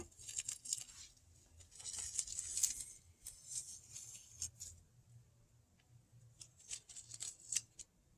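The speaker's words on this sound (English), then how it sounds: "I'm just going to start taking up the painter's tape" Painter's tape peeled off brick after mortar joint repair, a series of faint, close tearing and crinkling rips in short bursts with quiet gaps between.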